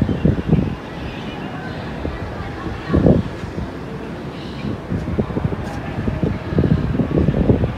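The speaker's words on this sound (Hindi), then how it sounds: "हवा बहुत तेज चल रही है आज ऊपर छत पे।" Strong wind gusts across an open rooftop, with broadband rushing swells and buffeting against the microphone that rise and fall in bursts, loud and close.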